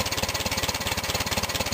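An old Case tractor engine idles on a frosty cold morning, chugging in a steady, fast, even rhythm close to the microphone, loud and alone with no talk.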